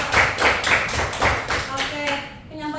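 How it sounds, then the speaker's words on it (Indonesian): Students in a microteaching class clap for a presenting group, giving a run of evenly spaced, rhythmic claps that fade out as a voice begins near the end. "beri tepuk tangan untuk kelompok 1"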